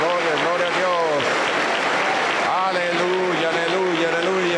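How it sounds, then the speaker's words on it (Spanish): A church congregation claps loudly and steadily in applause, with singing or chanting voices rising over it throughout. "lo vamos a recibir con un fuerte aplauso para Cristo nuestro Salvador"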